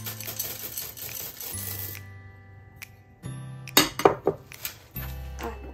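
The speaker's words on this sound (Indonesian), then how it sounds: "Sekarang kita masukin choco chipsnya." Chocolate chips patter into a bowl of batter for a simple home bake, a cluster of bright clinks and taps bunched together in a couple of seconds, close, with quieter background hum and kitchen noise around them.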